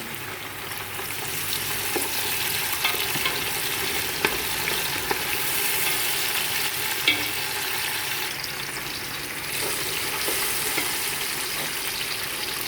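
Tomatoes sizzle and fry in a pan over a lowered gas flame for chicken bhuna khichuri, giving a steady close-up crackle with occasional stirring clicks and no voices.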